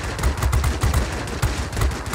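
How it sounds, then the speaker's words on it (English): Forward guns of an IL-1 attack plane firing in World of Warplanes, a steady rapid stream of evenly spaced gunshots with quick rhythmic bursts and no talking. "these guns take about 50 years to overheat"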